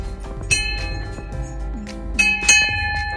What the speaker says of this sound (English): when it gets so choppy that the bell rings, then you know it's time to ring the bell